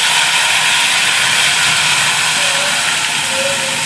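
Ground spice paste hits hot oil for a Bengali chicken kosha, giving a loud, steady broadband sizzle that hisses evenly throughout with no pauses.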